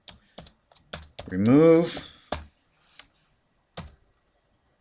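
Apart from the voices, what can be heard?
typing a folder name on a computer keyboard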